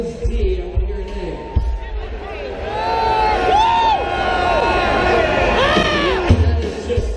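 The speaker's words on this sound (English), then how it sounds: "I want to hear an A." A concert crowd at the Electric Factory in Philadelphia sings a sustained A together, many voices sliding and wavering in pitch over a bed of crowd noise, ending with a brief cheer.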